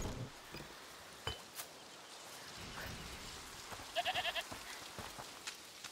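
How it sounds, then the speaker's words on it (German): A goat in the video game A Plague Tale: Requiem bleats in a short burst of four quick, wavering cries, somewhat distant over a steady rain-like background with occasional clicks. "Hör mal, ist das die Ziege, die er meinte?"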